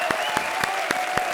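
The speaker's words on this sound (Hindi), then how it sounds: "तालियां राजा और प्रीति के लिए." Studio audience applause on a Hindi comedy TV show, a steady wash of clapping with periodic rhythmic beats and a sustained musical tone underneath.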